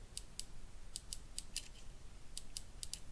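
Sharp, crisp mechanical clicks come in quick pairs and short groups from the trigger switch of an Ares M45X-S airsoft gun. They are close and fairly faint over a low, steady background hiss.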